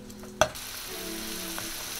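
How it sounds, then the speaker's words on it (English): Chopped bacon sizzles steadily in a pan, a sharp clatter as it lands near the start, then a continuous close frying hiss with no voices. "Chop your bacon up, put it in a pan."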